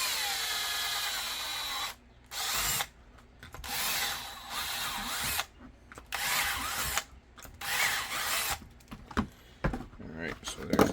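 A power drill bores holes through a clamped holster mold in bursts of whirring separated by short pauses, close and loud, with someone talking between the runs.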